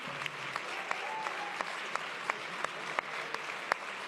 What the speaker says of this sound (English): A round of applause for our debaters this evening